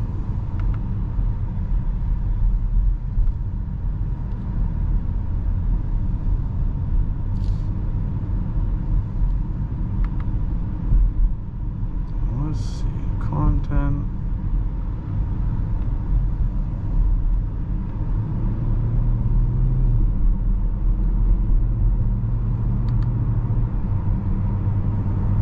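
A 2024 BMW X5 40i cruising on the road under cruise control, giving a steady low engine and tire rumble throughout, with brief clicks and a faint chime midway and no talking.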